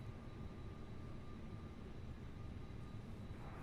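Airbus A320neo engine spooling up during start in Microsoft Flight Simulator, a faint steady roar with a thin whine held throughout, alone with no talk.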